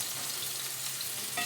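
Ginger and garlic sauté in a pan for a roadside-dhaba-style paneer mutter masala, giving a steady, close sizzle with a light stirring scrape near the end and no talking.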